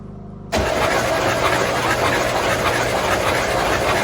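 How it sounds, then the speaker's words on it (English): Starter cranking a 1968 Oldsmobile Delmont 88 V8 that sat for 30 years, oil being cleared from the cylinders; a loud, steady, rapid cranking churn kicks in after a brief quiet start and runs without firing. "I'm going to cycle the motor a bunch of times so we can go ahead and get all the oil out of the cylinders."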